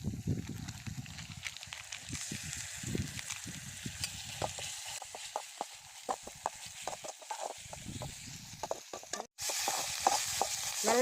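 Ginger garlic paste sautéing in a pan, a close sizzling hiss broken by scraping stirs and soft knocks, with a louder burst of frying near the end.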